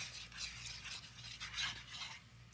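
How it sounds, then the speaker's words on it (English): Metal whisk stirring milk into sauce in a hard anodized skillet, soft rhythmic scraping and swishing strokes, quiet and close, with no talk. "You want to put in maybe a cup, then whisk it in."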